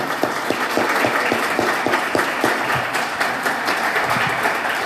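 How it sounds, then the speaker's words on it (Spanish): An audience at a binational symposium on identity and borders applauds: dense, steady clapping from many people in a hall, loud and continuous throughout, with no talking over it. "Un aplauso para ellos, por favor."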